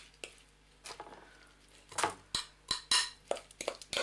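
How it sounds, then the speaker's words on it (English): Florentine slice mixture is spooned out of a bowl, with a series of scattered clinks and scrapes of a spoon against the bowl, growing more frequent and a bit louder toward the end, close and otherwise quiet. "Next job is to get it out of bowl"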